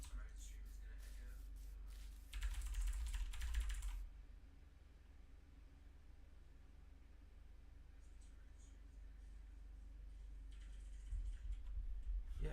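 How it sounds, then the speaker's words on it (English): A loud computer keyboard clatters in bursts during a livestream: a fast flurry of keystrokes, a quieter pause, then more scattered typing toward the end. "you can still hear the freaking gosh dang keyboard"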